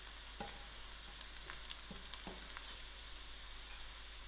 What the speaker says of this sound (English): give this a few seconds to fry